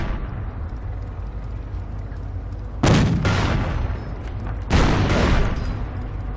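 Sherman tank firing on a Panzer in Company of Heroes 2, two heavy booming cannon shots a couple of seconds apart, loud and close over a rumbling battlefield bed.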